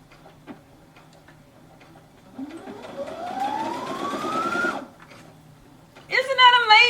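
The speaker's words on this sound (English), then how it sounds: "You can sew without your foot." A Brother ST150HDH sewing machine running without its foot pedal, a steady rising mechanical whir lasting a couple of seconds that then stops, amid soft clicks and someone talking.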